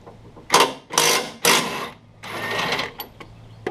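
An impact wrench removes the lower motor mount bolt on a Honda Civic, rattling loudly in four close bursts of about half a second each, separated by short pauses, with a faint click at the end.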